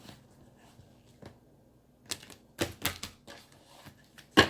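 Tarot cards being shuffled by hand: faint, sparse riffling and sharp card snaps in short irregular clusters, the louder flicks coming toward the end, with no voices.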